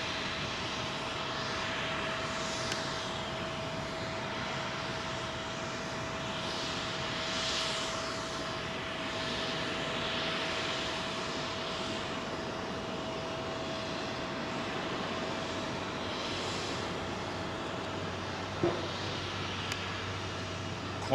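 Qantas jet aircraft at London Heathrow, a steady broad roar of engine noise heard from a distance, holding constant throughout with a faint tonal hum underneath.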